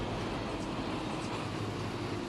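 A freight train in the Run 8 train simulator game rumbles past in a steady, even roar with a broad low rolling noise, moderately loud and continuous throughout.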